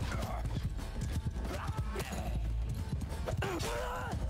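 Cavalry horses in Mount & Blade II: Bannerlord pounding along in a rapid clatter of hooves amid battle noise, with a horse whinnying near the end and voices mixed in.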